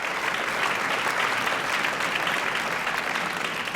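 Continuous, dense audience applause welcoming Dennis Haskins, loud and steady throughout the short stretch.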